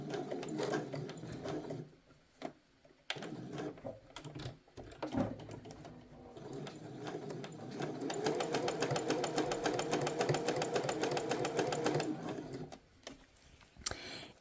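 A sewing machine stitches bias binding onto a shirt, starting and stopping in short bursts before one long, steady run of rapid stitching, close by and fairly quiet.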